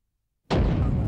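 After a brief silence a car backfires with one sudden, loud gunshot-like bang, then a rough rumbling decay that trails on to the end.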